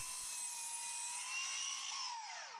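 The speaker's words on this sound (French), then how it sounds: "je règle la scie à angler à 2 degrés. Et je coupe." A mitre saw set to a 2-degree angle whines at high pitch as it cuts through a wooden wall stud, its tone dropping as the blade slows near the end.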